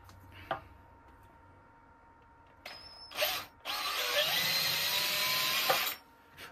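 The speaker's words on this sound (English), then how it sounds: "I'll just get a slightly bigger drill bit through this middle hole" A power drill fitted with a larger bit bores out an existing hole in a turned wooden cauldron smoker: a short trigger blip, then a sustained whining spin for a couple of seconds before stopping, close and loud.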